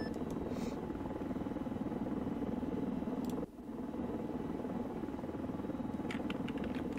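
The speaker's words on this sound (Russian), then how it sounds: "вертолет на последний взлет летит" A Mi-24 helicopter in flight in Arma 3: a loud, continuous rotor and engine drone with a rapid pulsing beat, a brief dip midway, then the steady roar again.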